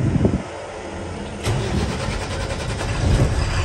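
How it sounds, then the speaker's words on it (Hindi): A car engine cranks and catches about halfway through, then settles into a steady, fairly loud running idle, with no talking. The vehicle has just had air springs and brake liners replaced. "करते हैं गाड़ी स्टार्ट"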